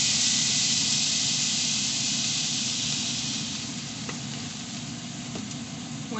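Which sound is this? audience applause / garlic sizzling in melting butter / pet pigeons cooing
garlic sizzling in melting butter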